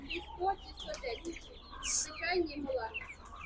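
Many chicks peeping and chirping in a busy cluster at a market in Poltava, close by, with a brief hissy burst and murmuring voices around them.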